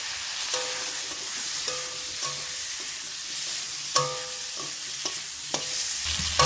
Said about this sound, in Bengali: পেঁয়াজ আলুটা ভাজা হয়ে গেছে